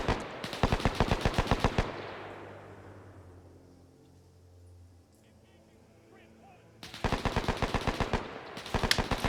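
Bursts of rapid automatic gunfire in a naval video game mission, a dense volley fading into a long rumbling tail before another sustained burst of shots resumes, loud and close.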